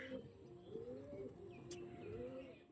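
High-quality tournament Panja pigeons coo softly in a few repeated, rolling calls, faint and close, with light chirps in a quiet background.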